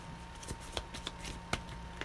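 Tarot cards being shuffled by hand, a soft papery riffle with a few sharper clicks and snaps spread across a couple of seconds, close and fairly quiet, with no talking.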